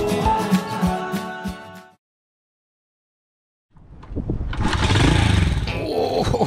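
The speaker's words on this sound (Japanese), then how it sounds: "おお、かかりました。エンジン一発でかかりました。" A motorcycle fitted with a newly replaced big carburetor runs with a buzzing, rattly idle, goes silent for nearly two seconds, then fires on the first try and settles into a loud, close, steady running rumble.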